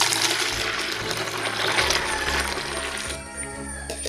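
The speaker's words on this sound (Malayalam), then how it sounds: "അതിലേക്ക് ഞാൻ 1 ലിറ്റർ വെള്ളം ചേർക്കുന്നുണ്ട്." Roughly a litre of water pours into a container while a homemade bio-pesticide spray is mixed, giving a close, continuous splashing gush that fades out in the last second.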